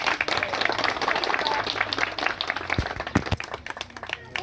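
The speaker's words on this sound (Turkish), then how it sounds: "Onlar için bir alkış almak istiyorum bu arada." Villagers at a holiday gathering in Okçular applaud the women, lively close clapping from a crowd with some sharper individual claps standing out.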